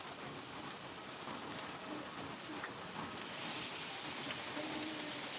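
Steady, soft rainfall pattering evenly on surfaces, a continuous wash of drops with no voices.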